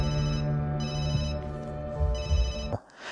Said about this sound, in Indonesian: Tapi telepon Aido berbunyi hingga membuat Aman menghentikan kegiatannya.